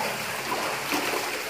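Flowing sewer water in a video game, a steady rushing trickle and stream sound, moderately loud and continuous, with no talk over it.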